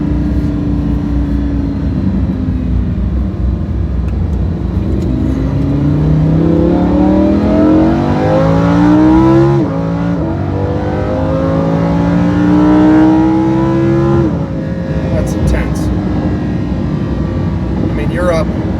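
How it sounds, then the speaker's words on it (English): A 2019 Lamborghini Huracan RWD coupe in sport mode with its louder exhaust setting engaged, revving loudly in repeated rising sweeps as the engine climbs through the revs, with a voice talking over it. "Now you can hear the revs building."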